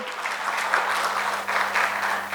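A church congregation applauds during a Sunday morning service, a steady wash of clapping from a moderately sized group, fairly close and even, with slight swells, and a low hum underneath.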